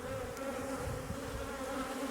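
Honeybees buzzing around an opened hive during a spring inspection, a steady, even drone at low level with no pauses or voices.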